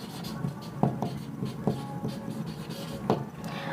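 Writing on a board during a group theory lecture: soft scratchy strokes with occasional taps as the writing tool meets the surface, close and fairly quiet, with no talk.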